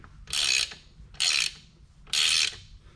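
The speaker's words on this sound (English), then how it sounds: "this is a ratcheting one, so I'm just going to ratchet all the way until it comes off" A ratcheting wrench loosens a 3/4 bolt on a Mercury 75-115 HP outboard motor, three distinct bursts of rapid clicking separated by short pauses, close and clear.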